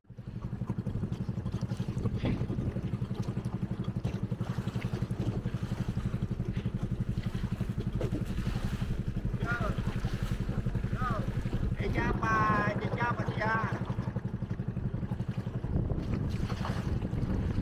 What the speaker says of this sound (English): Now the waves are getting stronger because we are getting to the open sea